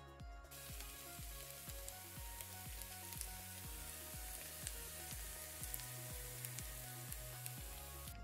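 Sautéed potatoes crackle softly in hot oil, a faint, continuous sizzle running under a repeating low rhythmic musical loop, with no one speaking.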